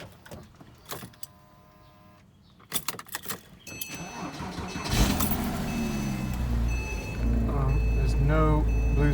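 A 2006 Porsche Cayman S is entered and started cold. Door and key clatter come first, then the starter whirs and the engine catches into a loud, rising, steady idle, close up.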